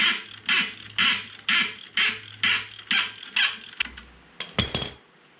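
Ratchet wrench with a 19mm socket working loose a rusted axle nut on an FJ45 axle, a run of about seven regular rasping clicking strokes followed by a few sharper clanks, close and clear with no talk.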